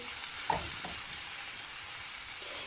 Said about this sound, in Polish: Wszystko razem mieszamy na patelni